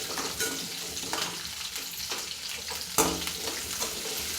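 Small onions sautéing in hot oil for idli sambar, a steady bright sizzle with occasional spoon scrapes and a louder clatter near the end.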